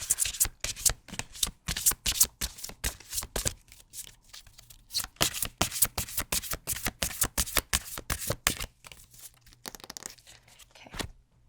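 Cards riffle and snap in rapid bursts, a close, continuous papery shuffling that stops and restarts several times.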